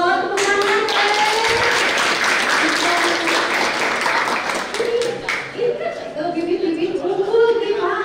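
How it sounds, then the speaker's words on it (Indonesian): Audience applause and clapping at a youth entrepreneurship lecture at a university in Sumedang, a steady dense patter running loud for about five seconds, then thinning as a voice speaks over the tail. "Masya Allah, tepuk tangan"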